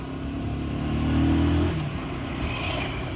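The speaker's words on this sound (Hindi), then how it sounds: "फर्स्ट गियर सेकंड गियर में हमको यहाँ पर बाइक चलाना पड़ रहा है क्योंकि ज्यादा ढलान है" A motorbike climbs a steep slope near Jaswant Thada in Jodhpur in first and second gear, its engine droning steadily close by and rising slightly in pitch before easing, with no talking.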